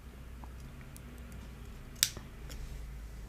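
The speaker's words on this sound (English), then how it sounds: "Then take it out and I can cut off my excess wire." A single sharp snip of wire cutters trimming excess jewellery wire while making a beaded ring, a quick crisp click standing alone against a quiet background.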